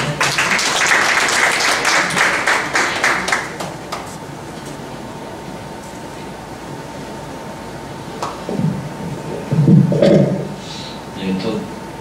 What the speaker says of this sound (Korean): 나오신 분 박수로 맞아주세요.